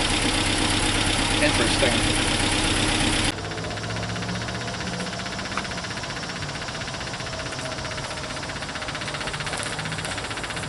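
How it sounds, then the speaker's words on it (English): A Land Rover Series 2A engine running with a rough mechanical drone that abruptly drops to a quieter, lumpy idle partway through, heard up close with a brief spoken remark over it. "I'm going to shut it off, put it in reverse, and hit the starter motor with a little bit of throttle"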